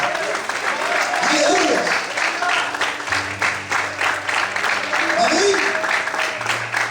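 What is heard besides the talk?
congregation applauding in church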